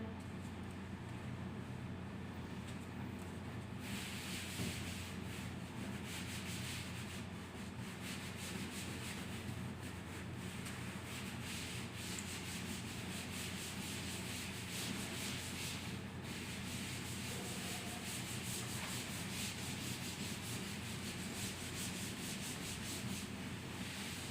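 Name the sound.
erasing writing on a board by rubbing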